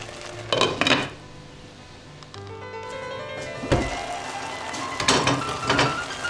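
Peppers cooking in a pan, stirred with a utensil that clanks and scrapes against the metal in a few distinct bursts, with a soft background hiss of sizzling between strokes, close up.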